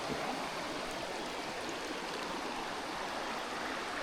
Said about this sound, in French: Trouver une petite rivière.